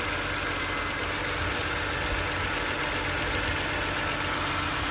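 A 2006 BMW 325i engine idles steadily after work on its Vanos solenoids, CCV system and oil cooler gasket, giving a smooth, even, continuous hum up close with no voices.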